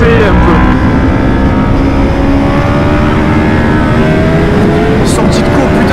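A 2008 Honda CBR 600 RR motorcycle engine drones loudly and steadily while riding, its revs climbing and settling in smooth, rising tones under strong wind rush for the whole stretch.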